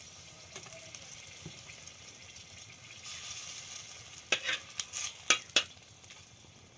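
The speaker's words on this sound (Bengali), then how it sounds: "তেলটা গরম হয়ে গেছে। এবার আমি এর মধ্যে দিয়ে দেব 3টে শুকনো লঙ্কা।" Dried red chillies and bay leaves hit hot oil, giving a faint, low sizzle that builds after a few seconds, with several sharp crackles and pops near the end.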